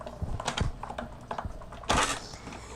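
A 3D embossing folder with a specialty plate is cranked through a manual die-cutting machine for a spring card, giving close, uneven mechanical clicks and rattles that end in one louder grinding burst.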